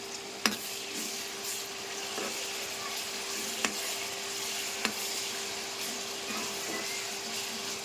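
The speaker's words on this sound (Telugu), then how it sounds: "ఎండ్రాయిల్ బాగా వేగాలి." Dried prawns fry in oil with turmeric for a gongura pickle, giving a quiet, steady sizzle. A few sharp clicks and stirring scrapes break through at intervals.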